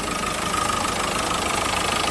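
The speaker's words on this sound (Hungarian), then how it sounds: "a motorja pedig vígan ketyerészik itt ebben a motortérben" Chrysler Sebring 2.0 CRD diesel engine idling in its engine bay, a loud, steady, close-up clatter with an even mechanical rhythm and no voices.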